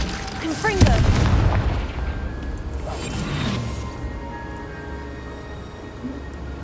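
A Confringo explosive spell goes off in the Hogwarts Legacy video game as a deep booming blast right after a voice. The rumble fades over a few seconds into a low background hum.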